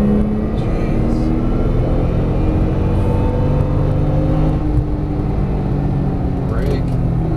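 A Porsche 911 Turbo S on a track, its engine droning loudly and steadily with a rising tone as the throttle is squeezed on through a corner, while a voice speaks over the engine noise.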